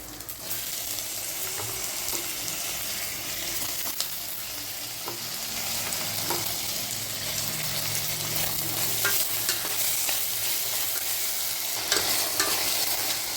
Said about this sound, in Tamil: இஞ்சி பூண்டு பேஸ்ட்டு பச்சை வாசனை போகிற அளவுக்கு வதக்கிட்டு அடுத்தது தக்காளி போட்டுக்கலாம்